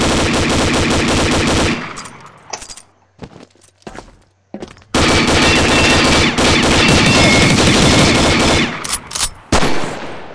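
Rapid automatic gunfire from a weapon in a video game: long, loud, dense bursts of shots, broken by a quieter stretch of scattered single shots and footsteps, then another sustained volley and a final short burst.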